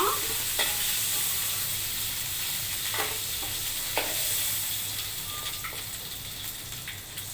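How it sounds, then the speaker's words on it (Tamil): Mantis shrimp fry in hot oil with a steady, soft sizzle and bubbling, broken by occasional clinks and stirring scrapes, heard close and fairly quiet with no voices. "இப்போ நம்ம ப்ரானை பொரிச்சிட்டோம்"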